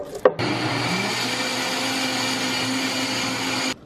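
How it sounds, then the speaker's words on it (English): Close and loud, a blender purees a cooked cauliflower and onion mixture into a sauce with a steady whirring roar, cutting off abruptly after a brief clunk at the start. "Now I'm going to spoon this cauliflower onion mixture into a blender, so we can make it more of a sauce."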